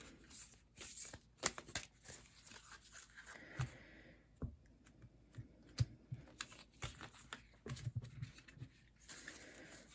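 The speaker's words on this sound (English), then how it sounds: "I'm pulling you a Moonology Oracle card." Moonology Oracle cards being shuffled and one pulled from the deck, quiet close-up riffling and flicking in irregular bursts with soft taps, faint and alone with no talk.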